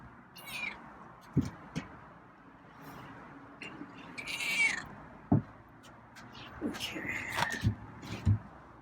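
A feral cat meows several times at moderate distance, short plaintive calls scattered among soft background rustles and low talk.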